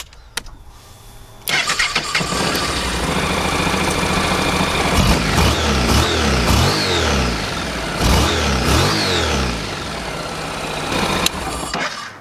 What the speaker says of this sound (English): as the bike is running, even though this bike runs pretty smooth